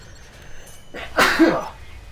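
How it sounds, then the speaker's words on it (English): A single sharp sneeze bursts out close to the microphone, preceded by a brief intake of breath. "Sorry for the sneeze."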